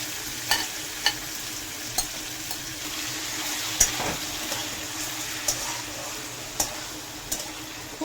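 Mushrooms frying in a pan for curry give a steady, close sizzle, with light clicks from a stirring utensil against the pan at irregular intervals throughout.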